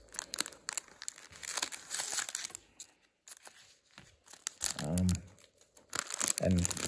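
The wrapper of a 1984 Topps rack pack of baseball cards is cut and torn open, with crinkling and tearing in bursts, a brief quiet gap, then more crackling plastic and paper close up.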